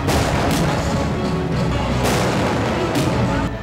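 Continuous crackling bursts of firecrackers going off in rapid succession at a wedding procession, loud and dense, with a few sharper bangs standing out.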